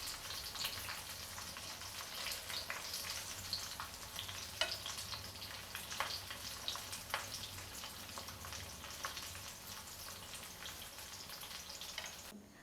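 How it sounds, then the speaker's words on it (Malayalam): Banana rolls coated in bread crumbs fry in hot oil, a steady dense sizzle with scattered pops and crackles throughout, close and continuous with no voices. "2 മിനിറ്റ് മാത്രം നമ്മളൊന്ന് ഫ്രൈ ചെയ്താൽ മതി."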